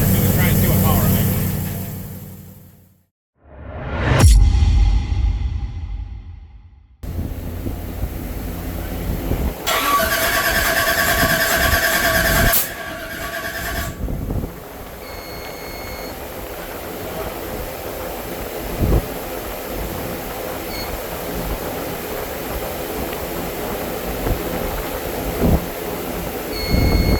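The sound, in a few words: Camaro engine warming up on a dyno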